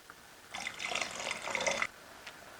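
A short extra pour of water into a pot of meat kabsa rice, a bright splashing gush of about a second and a half, then quiet with a faint drip.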